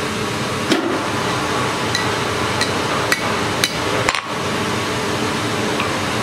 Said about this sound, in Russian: Здесь еще при таких тонких работах нужен молоток поменьше.